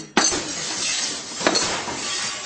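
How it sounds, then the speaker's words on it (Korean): Glass shattering in an audiobook of Orwell's Animal Farm: a sudden loud crash followed by a sustained bright spray of tinkling shards, with a second crash-like surge midway. "밤 11시께 와장창 유리 깨지는 소리와 함께 잠잠해졌다"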